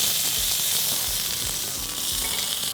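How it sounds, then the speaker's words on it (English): A pre-cooked potato pressed flat on a griddle fries in hot fat with a bright, even sizzle that runs steadily throughout, with low thumps of pressing underneath and no voices. "Once the fat is hot, I'm going to take a pre-cooked potato like this, put it on the griddle."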